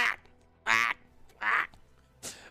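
Duck-like bird quacking in a video game, four short raspy quacks spaced at even intervals, loud and close with no other sound around them.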